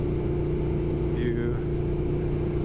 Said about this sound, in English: Hope you can hear the motor.